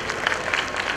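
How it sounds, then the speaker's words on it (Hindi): An audience at a Panch Kalyanak religious celebration claps together, a brief dense burst of applause heard close and fairly full. "एक बार तालियां तो बजाओ बाबा।"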